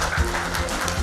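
An audience at a school chess championship claps steadily for a prize winner, a dense, continuous patter of applause throughout.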